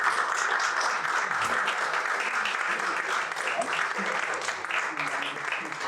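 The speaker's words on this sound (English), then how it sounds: "can we do a massive round of applause for our incredible panelists?" Sustained audience applause for a panel of speakers at an embodied activism gathering, steady dense clapping throughout with a faint voice or two mixed in.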